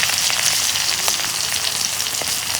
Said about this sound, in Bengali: তেল গরম হচ্ছে এখন আমি মশলা দিয়ে দিম পিঁয়াজ আর কাঁচা মরিচ দিলাম